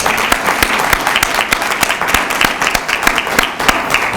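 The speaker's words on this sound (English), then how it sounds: "Let's make sure we do give a good supportive round of applause to the ASU Theater Ensemble." Audience applause at a poetry festival for a university theater ensemble, dense steady clapping from a crowd filling the whole stretch with no voices over it.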